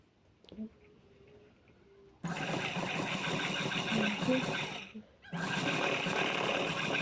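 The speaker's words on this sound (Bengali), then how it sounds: "এবার হাতার নাইটি দুটো সাইড সেলাই করে নেব" A sewing machine stitches the sides of a nighty, running in two long loud bursts of fast, even mechanical whirring with a short pause between, after a quiet start with faint handling sounds.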